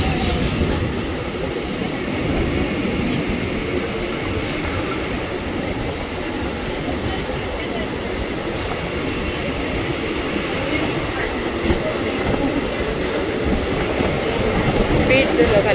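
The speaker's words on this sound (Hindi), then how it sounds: "ट्रेन आ गई है।" A Mumbai local train rolls into the station with a loud, continuous rumble of wheels and carriages, faint clicks and squeals on top, and voices in the background.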